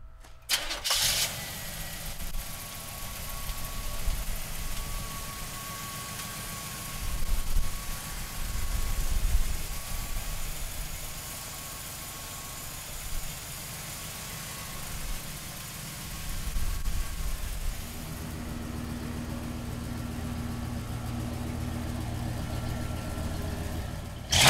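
1949 Mercury Monterey engine cranking and catching near the start, then idling steadily with a low, even rumble and slight rises in revs, heard up close.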